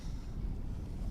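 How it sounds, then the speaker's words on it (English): Wind blows outdoors on a canoe, a continuous low rumbling buffet against the microphone with no distinct events, steady and fairly loud throughout. "See, like days like this when it's windy,"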